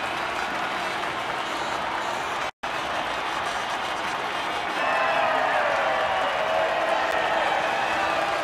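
A crowd in the F1 22 racing game applauds and cheers steadily at the podium, a dense continuous wash of clapping with one brief dropout partway through.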